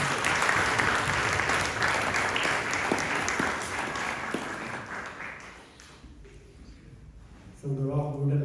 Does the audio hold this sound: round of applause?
yes